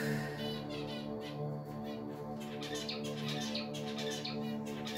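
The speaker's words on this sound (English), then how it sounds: "But I got my finches." Pet finches chirp in quick, high twittering bursts over a steady tonal background hum, the calls fairly close and continuous throughout with no talking.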